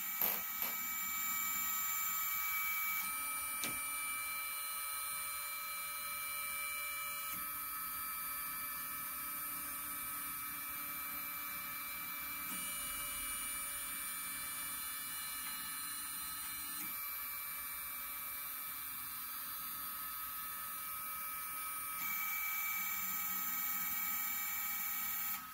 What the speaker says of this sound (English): I'm going to click Run Boundary, which is going to show us where the image is printing.